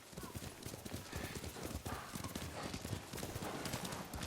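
Rapid clip-clop of horses trotting in the video game Ghost of Tsushima, a dense continuous hoof rhythm with game ambience throughout.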